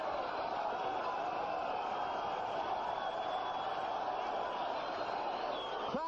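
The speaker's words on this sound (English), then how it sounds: "Crowd likes it. Very appreciative crowd here in Las Vegas." Boxing crowd in Las Vegas during the Larry Holmes versus Trevor Berbick fight, a steady dense roar of cheering and murmur filling the arena at moderate distance, continuous without breaks.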